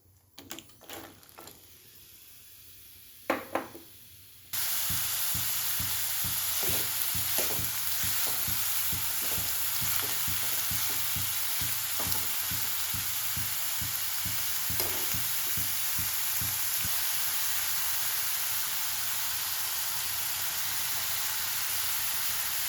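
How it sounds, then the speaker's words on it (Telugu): Chopped onions and green chillies hit hot oil in a pan and break into a loud, steady sizzle with crackling pops, close up, following a few quieter clatters at the start. "ఇప్పుడు ఉల్లిపాయలు, పచ్చిమిరపకాయలు ముక్కలు వేసుకుందాం."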